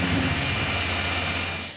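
An end mill cuts a copper inlay in a knife handle, producing a loud continuous high-pitched whine close by that holds steady for almost two seconds, then tapers off as the cut ends.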